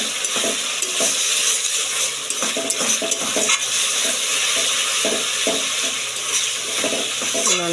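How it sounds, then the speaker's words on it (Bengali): Spices fry in oil in a pan for a fish dish, a continuous sizzle with repeated scraping stirs and light metallic clinks, close and steady, with no voices. "যতক্ষণ না তেল ছাড়বে ততক্ষণ পর্যন্ত একটু কষাতে থাকবেন মশলাগুলো।"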